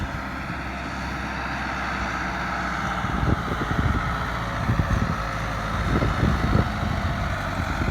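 A Tümosan 8095 tractor engine runs steadily as it drives, a continuous low rumble that holds for the whole stretch, with knocking bursts rising in the second half.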